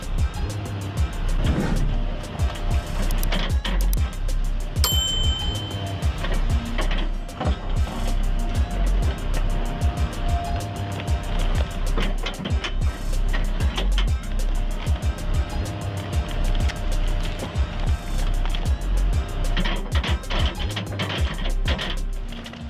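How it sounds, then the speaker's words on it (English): CBI stump shear mounted on an excavator shredding and mulching tree stumps, with a heavy engine drone under repeated crunching, cracking bursts of splintering wood, loud and sustained. "CBI stump shear shreds and mulches stubborn stumps like nothing else."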